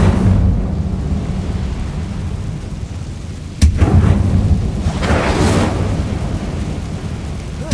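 An Incendio fire spell is cast in Hogwarts Legacy: a deep rumbling roar with a sharp burst partway through, followed by a flaring whoosh, loud and continuous.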